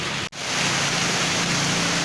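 Heavy rain pouring down at a wild fishing spot in Bekasi, a loud, dense, unbroken roar of water with one brief dropout near the start and no talking.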